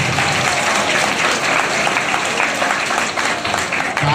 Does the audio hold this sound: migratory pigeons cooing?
no